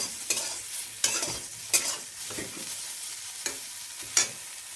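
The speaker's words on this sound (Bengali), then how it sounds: "এই সাইডে সয়াবিনটা ভেজে নিচ্ছি আর মশলাটা একটু কষিয়ে নেব" Soybean chunks frying alongside masala being stirred, with repeated scraping strokes of a spoon against the pan every second or so over a continuous sizzle, close and with no speech.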